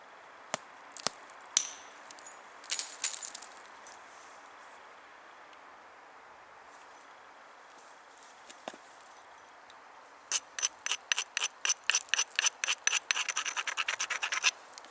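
An edge of flint is ground and struck while knapping, sparse sharp scrapes and clicks at first, then a fast close series of rhythmic rasping strokes near the end, with no talk.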